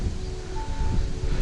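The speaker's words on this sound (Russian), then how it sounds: "Ветер еще, блин." Steady outdoor wind rushes past the microphone beside a taiga lake during a fishing trip, a low continuous roar and buffeting with no talk.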